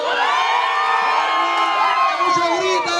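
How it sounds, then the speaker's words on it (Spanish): A large crowd of young people at a church youth assembly shouts and cheers loudly and continuously, with overlapping whoops and yelling voices filling the space close by. "¡Mucho gritan!"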